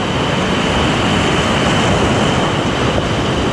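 Sea waves drag a fishing net in a dense, continuous wash of surf and wind, loud and close, with no talk heard.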